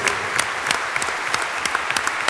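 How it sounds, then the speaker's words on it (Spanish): Applause from a crowd at a political party's national assembly, dense clapping with sharp individual claps, steady and fairly loud throughout. "un aplauso para todas nuestras familias"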